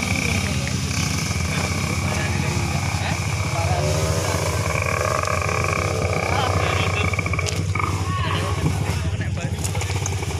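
A Honda CRM 250 trail motorcycle engine labours on an extreme off-road trail, a loud, rough buzzing drone that revs and strains continuously, with people's voices mixed in.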